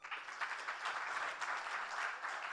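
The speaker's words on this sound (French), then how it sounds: "Merci Hugues Parent, on l'applaudit à nouveau." An audience at a conference plenary session applauds steadily, a soft, even wash of many hands clapping heard from a distance.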